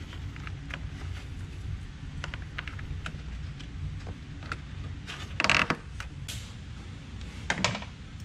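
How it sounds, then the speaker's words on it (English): Plastic push pins are pressed and locked into the front air duct of a Dodge Durango SRT. Faint ticks and small creaks lead up to two sharper, louder clicks near the end against a quiet background. "supplied push pins into the front air duct. Lock them all the way down."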